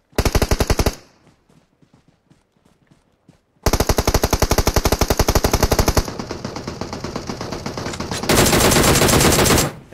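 FAMAS automatic fire in PUBG Mobile: a short rapid burst, a pause with faint ticks, then a long sustained burst and a final louder burst, all close and sharp without talk.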